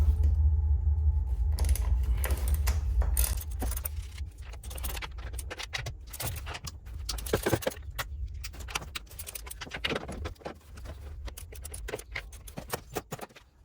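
A 10mm socket removes nuts on a Munchkin boiler during heat exchanger servicing, with metallic clinks and ratcheting rattles that come in irregular bursts. Close up, no talking.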